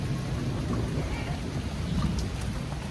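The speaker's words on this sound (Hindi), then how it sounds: "बाहर बहुत अच्छी खासी बारिश हो रही है" Heavy rain pours down outside a house during a storm, a dense, steady hiss with a low rumbling undertone, close and continuous with no talking.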